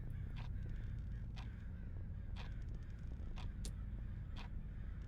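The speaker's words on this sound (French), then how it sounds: "il y a un corbeau qui est passé par la fenêtre" A crow caws outside a window, several short harsh calls spaced about a second apart over a low steady background hum, moderately distant.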